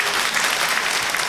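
Steady, dense applause from a crowd at a hospital event, continuous clapping at even loudness throughout with no voices standing out.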